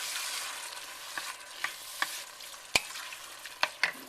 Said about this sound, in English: Add the tomatoes, and stir those.